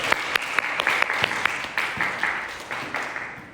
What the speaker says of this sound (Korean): 우리 격려하는 의미에서 박수 한번 쳐줄까요?